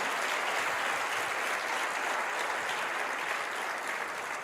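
A church congregation breaks into loud, sustained applause, a thick wash of many hands clapping evenly throughout with no clear voices on top.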